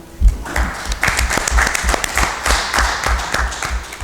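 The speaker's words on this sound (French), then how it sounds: "Bonne main d'applaudissements également." A municipal council meeting audience claps, steady applause with some louder individual claps near the front, sustained throughout.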